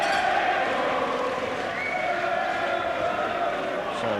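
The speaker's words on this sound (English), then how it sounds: "And this crowd now beginning to root hard for Graham." A boxing arena crowd roars and cheers for middleweight Herol Graham in a continuous, steady wash of noise, with a commentator's voice running over it.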